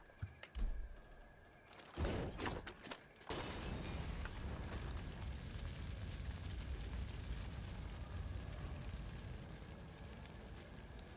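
Fire crackling and roaring in the Far Cry video game, set in a forest, opening with a few sharp bursts before settling into a steady, dense rushing blaze that fills the rest of the clip with no voices.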